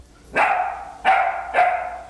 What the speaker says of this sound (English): You can hear the barks of jealousy.